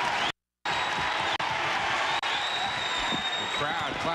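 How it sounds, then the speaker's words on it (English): Crowd noise at a 1989 Georgetown versus St. John's men's college basketball game, a steady broad wash of clapping and murmur from the arena filling the whole stretch, with a brief dropout near the start. "The crowd clapping the Hoya defense"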